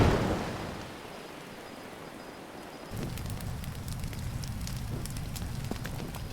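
A fire burning in the rain in the video game The Legend of Zelda: Breath of the Wild: a steady crackling roar with sharp pops, set over a constant patter of rainfall and starting after a fading rush of noise.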